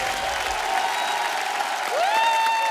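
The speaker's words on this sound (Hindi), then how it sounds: "जोरदार तालियां" Steady applause from a TV comedy show studio audience, with a sustained musical tone rising over it near the end.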